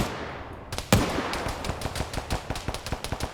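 Grenade launcher fire in a video game battle: one heavy thump opens, then a steady run of sharp evenly spaced shots rattles on close and loud, with no voices.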